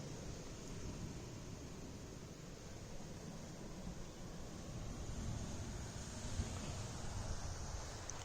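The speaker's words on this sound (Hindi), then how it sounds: "एक छोटा सा झरना है, मैं दिखाऊंगा आपको" Small waterfall trickling out of bushes on a Goa trek, a steady broadband wash of running water with no breaks, fairly close and even in level throughout, alone with no voices.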